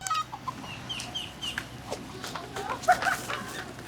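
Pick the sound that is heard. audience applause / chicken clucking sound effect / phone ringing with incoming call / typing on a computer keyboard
chicken clucking sound effect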